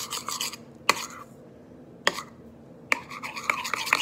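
Soap slime being mixed with salt, giving soft raspy rubbing and scraping strokes with a few sharp taps, close and fairly quiet, with no talking.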